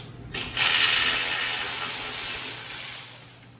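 Ratchet wrench loosening a 12 mm bolt on a 1971 Honda CT70 engine during a teardown, a steady, close, continuous rapid clicking that runs for several seconds with no talk over it.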